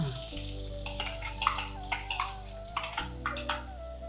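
Finely chopped onion drops into hot oil in a pan for a Kerala Onam sadya koottu thoran, sizzling steadily with a low fry hum while a spoon scrapes and stirs in repeated close clinks.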